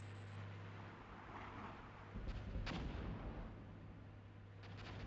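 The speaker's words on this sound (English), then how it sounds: "Yep, we can see artillery landing here. Enemy artillery coming in." Enemy artillery shells land in the tank game Armored Brigade as a steady low rumble of distant impacts, with one heavier crump standing out midway over constant engine-like drone.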